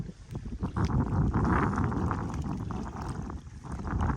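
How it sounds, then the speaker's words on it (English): Gusty wind buffeting the microphone outdoors on a catfish fishing boat, a loud continuous rumbling roar that swells and eases over a few seconds, with no talking. "I need the gusty wind."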